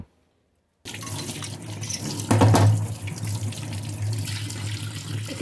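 Coconut pieces rinsed under a running kitchen tap, a steady close splash into the sink with a louder surge of water midway, no voices.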